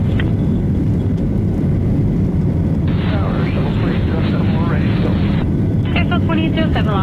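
An American Boeing 737 jet airliner rumbles and roars on its takeoff run at Las Vegas, a loud continuous low engine noise, overlaid by radio air traffic control chatter.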